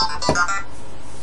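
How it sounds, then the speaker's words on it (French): A telephone in a first-person video game set in an Area 51 black site gives a short electronic tone, a quick burst of bright beeps lasting about half a second before fading. "Oh, téléphone."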